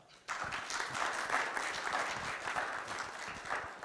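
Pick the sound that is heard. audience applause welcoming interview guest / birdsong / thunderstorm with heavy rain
audience applause welcoming interview guest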